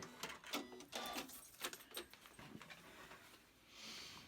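A sewing machine backstitches a paper pieced flower quilt block in short rapid bursts of mechanical stitching chatter, fairly quiet and close, with brief pauses between runs.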